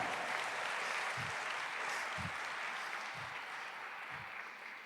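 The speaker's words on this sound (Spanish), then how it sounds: "Dale un fuerte aplauso a la palabra del Señor." A church congregation applauding at a Sunday service, steady sustained clapping from many hands at moderate distance, with a few low thumps underneath.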